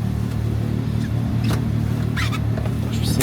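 A buggy engine runs in Algiers with a steady, loud, low rumble and a few brief higher revs and clatters over it. It is heard close, with no talk.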